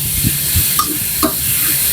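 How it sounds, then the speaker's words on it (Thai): Minced pork stir-frying in a pan for Thai basil pork, a steady broadband sizzle with a few soft scraping stirs near the microphone, no talk. "เดี๋ยวจะใส่หมูเข้าไปนะคะ ก็ทำหมูให้สุกนะคะทุกคน"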